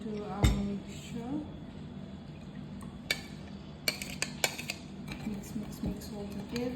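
Ketchup mixture stirred in a pot near the boil, with a utensil clinking and scraping against the pot in scattered bursts of knocks and clinks over a low simmering background.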